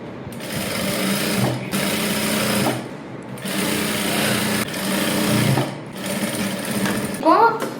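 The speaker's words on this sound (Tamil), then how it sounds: "இப்போ சுற்றி தையல் போட போகிறோம்." A sewing machine runs around the edge of a princess-cut blouse, loud and close, in five long bursts of buzzing stitching separated by brief pauses, with a short squeak near the end.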